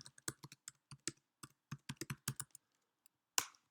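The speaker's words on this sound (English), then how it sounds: "pressing Command, Alt, Shift and clicking on the thumbnail" Rapid clicks from a computer keyboard shortcut and mouse in image-editing software: a close, dry run of about twenty taps over two and a half seconds, a pause, then one sharper click.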